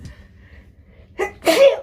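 A single person sneezes indoors, a quick sharp intake followed by a loud burst, close to the listener, after a stretch of near silence.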